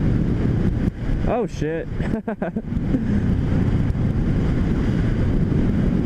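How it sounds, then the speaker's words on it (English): Strong wind buffets the microphone outdoors with a steady roar, while someone briefly speaks over it. "And it is windy as fuck."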